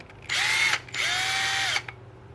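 A power drill whirs in two bursts while building a shed shelf, a short spin then a longer one, loud and close, with the motor pitch rising and falling, and the drill bit breaks.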